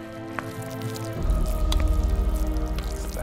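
Fresh ricotta being stirred into a pasta filling in a kitchen, giving a soft, wet, rhythmic squishing that starts partway through and continues steadily, close by, with no talk over it.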